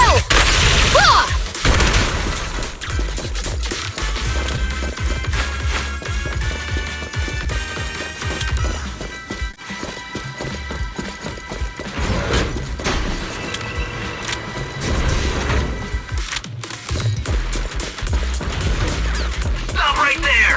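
Zenless Zone Zero battle with game gunfire and heavy explosions in loud, dense bursts, booms and crashes layered over a continuous action soundtrack, with character voices shouting at times.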